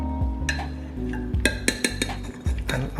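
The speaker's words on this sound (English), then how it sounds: "The last thing we have to do is we need to slice it into 9 squares." Knife or utensil knocks and scrapes against a mixing bowl while buttery biscuit dough is cut into nine squares, a series of clear clinks and taps close by with no talking.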